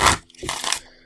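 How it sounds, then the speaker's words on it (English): A deck of encounter cards for a card game being shuffled, two quick crisp riffling bursts close to the microphone, with no talking. "I'm going to shuffle up the encounter deck."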